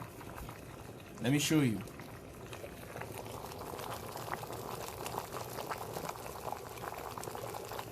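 Water boiling in an uncovered kettle or saucepan, run from a Victron Phoenix inverter stepping 230V down to 120V, gives a steady low bubbling rumble throughout, broken by a brief louder swell near the start, while a person talks over it.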